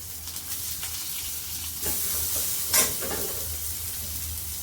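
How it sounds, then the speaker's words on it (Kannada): Two small chopped onions sizzle steadily in a pan, with occasional scraping stirs and one brief sharp clatter, close but fairly soft, with no voices. "ನಾನಿಲ್ಲಿ ಎರಡು ಈರುಳ್ಳಿನ ಚಿಕ್ಕ ಚಿಕ್ಕದಾಗಿರೋ ಈರುಳ್ಳಿನ ಕಟ್ ಮಾಡಿ ಹಾಕೊತಾ ಇದ್ದೀನಿ"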